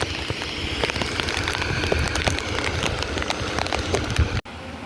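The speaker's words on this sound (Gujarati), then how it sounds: "તો અત્યારે વરસાદ આવે છે" Rain falls steadily and densely on nearby surfaces as a loud, continuous patter with scattered sharper drops, then cuts off abruptly near the end.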